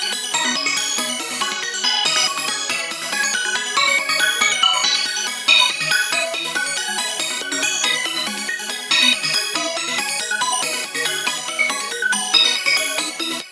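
Xenology's Sorry preset is layered as a pluck, giving a dense, bright, fast-repeating synth melody that stays loud and continuous throughout, with no talking.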